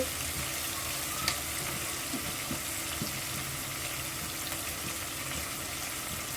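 Coral fish pieces fry in hot oil in a pan, giving a steady, even sizzle throughout with a few faint clicks. There are no voices.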